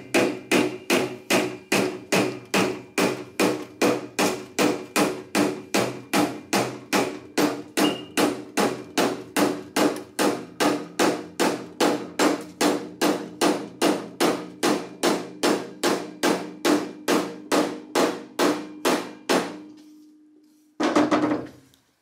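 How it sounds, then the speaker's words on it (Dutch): Rubber mallet tapping a new rubber footrest onto a Tomos A35 moped, around forty evenly spaced, fairly loud knocks in a steady rhythm, then a pause and one final muffled burst. "En dan pak ik een rubber hamertje. Die ga ik gewoon simpelweg erop tikken met een hamer."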